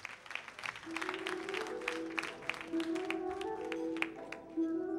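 Moderate audience applause at the MADEB 2014 awards ceremony in honour of a prize winner, scattered claps under steady music tones with occasional sharp taps.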